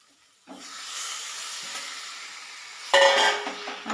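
Squid dropped into a pan of frying Kerala-style masala, a soft steady sizzle and hiss with stirring that jumps to a louder, brighter crackle about three seconds in.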